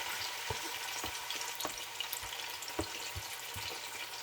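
A stir-fry sizzles and crackles steadily in a hot pan, with soft scrapes and taps as it is stirred.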